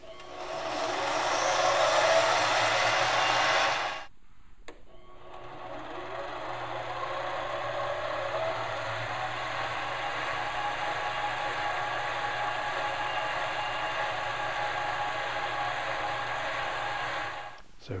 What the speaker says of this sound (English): now we can sand the inside and the outside and put on a coat of wax